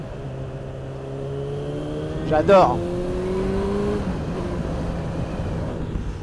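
A Suzuki Bandit 650 GSF motorcycle engine revs sharply once in a short burst, rising and falling over a steady idling rumble, with a voice speaking briefly nearby.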